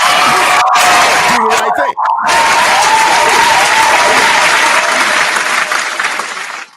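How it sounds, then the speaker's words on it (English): Loud audience applause during a mix show podcast, with brief cheers and a voice speaking over the start, then steady clapping that continues and fades at the end. "Round of applause for Spike Lee."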